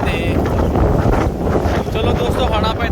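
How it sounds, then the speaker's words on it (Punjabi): Strong gusty wind buffets the microphone on an estuary walkway in Invercargill, Southland, a loud, continuous low rumble and roar, with a voice faintly mixed in. "ਹਵਾ ਅੱਜ ਤੇਜ਼ ਆ"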